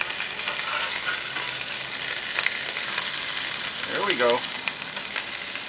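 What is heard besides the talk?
hamburgers frying on a Deadwood wood stove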